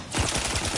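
Rapid automatic gunfire in the video game Outer Worlds 2, a short loud burst of closely spaced shots starting abruptly and continuing to the end.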